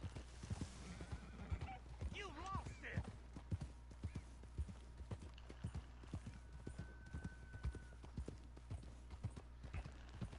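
A horse in the Red Dead Redemption 2 game clip-clops in a steady run of hoof falls with whinnying and snorts early on, while a voice talks intermittently over the hooves.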